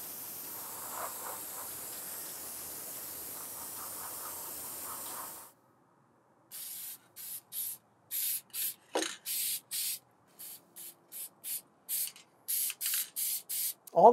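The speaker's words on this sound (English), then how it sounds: "I'm thinning them with their airbrush medium. So it'll run through my airbrush" An airbrush sprays thinned paint for a scratch-built Ghostbusters prop, first in a long steady hiss, then after a pause in many short, evenly spaced bursts.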